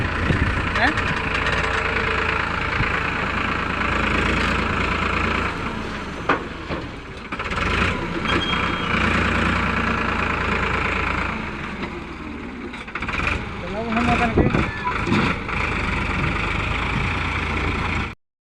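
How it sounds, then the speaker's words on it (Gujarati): A tractor fitted with a front loader runs steadily while loading manure on a farm, its engine a continuous low drone that holds through the clip, with voices talking over it. "ટ્રેક્ટરમાં ભાઈ લોડર ગોઠવી નાખ્યું."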